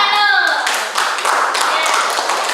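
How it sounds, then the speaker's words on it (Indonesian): Students clapping in a classroom during a chemistry lesson, a close, loud flurry of hand claps filling the room, with children's voices mixed in briefly at the start. "Iya, tepuk tangan dulu."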